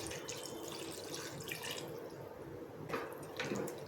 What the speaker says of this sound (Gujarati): હવે આપણે અહીંયા એક ગ્લાસ જેટલું પાણી નાખીશું